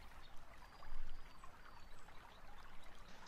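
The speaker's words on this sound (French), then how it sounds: "c'est un petit torrent qui s'écoule avec un peu de bruit, petit bruit comme ça, des petites cascades" A small stream with little cascades flows steadily, a continuous soft rush and trickle of water at low volume with no voices.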